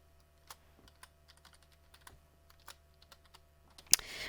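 A folder name is typed on a computer keyboard, giving a string of light, close key taps at an uneven pace. One louder keystroke and a rustle come near the end, with no speech.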